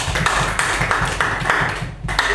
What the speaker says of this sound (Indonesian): super sekali tepuk tangannya